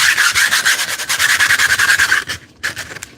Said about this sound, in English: I'm going to rough it up a little bit with some sandpaper